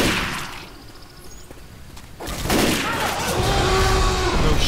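Explosive-ammo gunfire rattles in Left 4 Dead 2, a dense fusillade of loud shots that drops briefly and then returns as heavier continuous bursts and booms.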